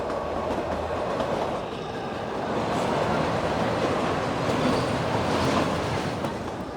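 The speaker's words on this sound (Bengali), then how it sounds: "কান্দাঘাট স্টেশন ছেড়ে বেরোলো আমাদের এই শিবালিক এক্সপ্রেস ট্রেন" Shivalik Express on the Kalka–Shimla narrow-gauge line, heard from inside a moving coach: a steady loud rumble with rhythmic clickety-clack of wheels on rail joints, continuous throughout with no voices.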